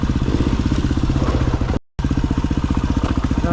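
Yamaha WR250R with a pit bike on a slippery dirt track, a loud, close engine drone with a rapid steady pulse that cuts out briefly midway and then resumes just as strong.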